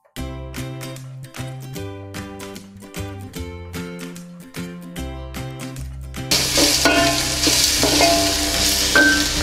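Background music plays alone at first, then a loud, bright sizzle bursts in as pounded ginger-garlic paste hits the hot pan for rava kichadi, continuing under the music.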